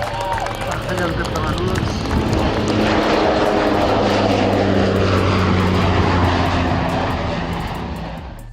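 A CN-235 twin-turboprop aircraft drones loudly overhead, its engine roar swelling and holding steady throughout, with a voice talking over it.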